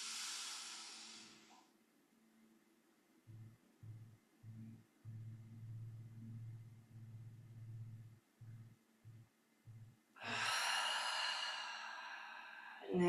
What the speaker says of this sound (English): Breathing in nice and deep.